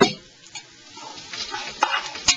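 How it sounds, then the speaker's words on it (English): Paella browning in extra virgin olive oil in a pan, with soft sizzling and a few sharp spatula scrapes and stirs against the metal. "I'm going to add a little bit of extra virgin olive oil. I just want to get that browned a little bit more"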